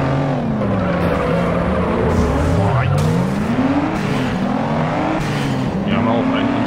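A Mustang roars through a race in the video game Juiced, its engine steadily revving up and down while tires squeal through corners, loud and continuous with a voice talking over it.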